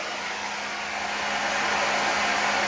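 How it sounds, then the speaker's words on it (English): A handheld blow dryer runs continuously while drying long curly hair, a close, loud, steady airy whoosh with a faint whine that swells slightly as it goes, with no talking. "This is probably the last time we're going to go through with the actual blow dryer"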